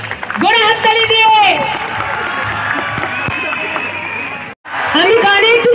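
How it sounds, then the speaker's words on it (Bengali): An audience claps steadily at the Dhaniakhali MLA Cup final ceremony, a dense wash of applause running beneath a loud, drawn-out voice over a speaker system, with a brief break near the end. "একবার জোরে হাততালি দিয়ে।"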